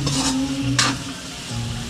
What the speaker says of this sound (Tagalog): Doon po natin igigisa ang sibuyas bawang.